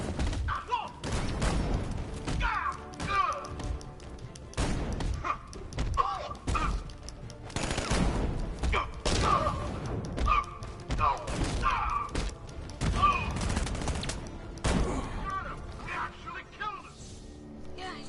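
Heavy shotgun blasts and thuds in a Batman video game fire in quick bursts throughout, mixed with mechanical clunks and game voices talking over the action.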